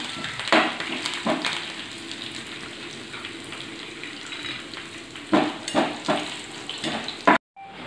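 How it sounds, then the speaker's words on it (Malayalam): Garlic and curry leaves fry in hot oil for a homemade mixture snack, a continuous close sizzle with occasional louder crackles and scraping stirs, ending in a sudden cutoff, with no talking. "അതിലേക്ക് നമ്മൾ നേരത്തെ തയ്യാറാക്കി വെച്ചിട്ടുള്ള വെളുത്തുള്ളി അതുപോലെ തന്നെ കറിവേപ്പിലയും കൂടി ഇട്ടിട്ട് ഒന്നങ്ങോട്ട് മൂപ്പിച്ച് കോരിയെടുക്കാം."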